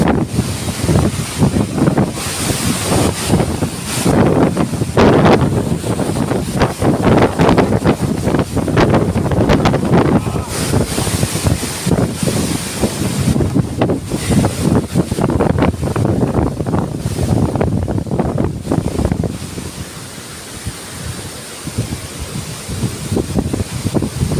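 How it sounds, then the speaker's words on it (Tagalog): Strong wind roars and buffets the microphone continuously, with gusty rumbling and a wash like surf underneath, loud throughout before easing slightly near the end. "Ang lakas ng hangin."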